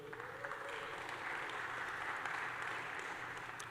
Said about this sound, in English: Can y'all clap it up for Elliot?